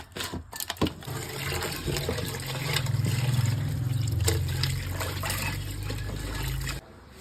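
Crabs being washed with salt and turmeric in a kitchen, water pouring and sloshing steadily for several seconds after a few sharp clatters, fairly close and then stopping abruptly.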